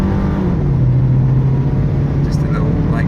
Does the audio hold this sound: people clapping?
no